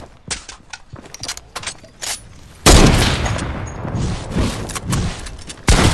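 Fortnite drum gun fire cracks in scattered shots, then breaks into a loud, dense sustained burst of rapid gunfire midway, with more bursts toward the end, all close and punchy.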